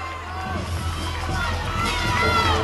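Arena crowd at a 2007 NCAA women's gymnastics Super Six meet roaring loudly and continuously, a broad dense wall of cheering and shouting voices that swells slightly toward the end.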